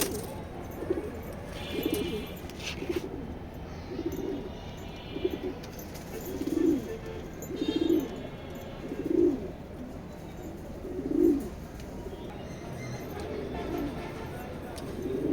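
Racing pigeons in a pigeon loft give a series of soft, low coos at a steady rhythm, several standing out louder and nearer, with occasional rustling and a voice in the background.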